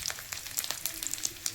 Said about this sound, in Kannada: ಎಲ್ಲ ಫುಲ್ಲು ಎಣ್ಣೆಲೆ ಫ್ರೈ ಆಗಬೇಕು